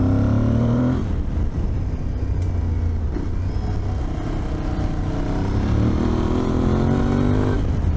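An engine revving hard and steadily under acceleration, loud and close, on a Yamaha Ténéré 700 or Aprilia Tuareg 660 adventure motorcycle running a traction control test, with the pitch rising and falling across the run and no talk.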